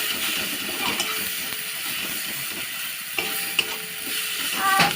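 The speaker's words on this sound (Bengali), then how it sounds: "মশলাটা ভালো করে কষিয়ে নেবো 1 থেকে 2 মিনিট।" Spice masala with dried chilli powder, salt and green chilli fries steadily in a pan, giving a close, continuous sizzle with soft stirring and a few sharper spoon scrapes near the end.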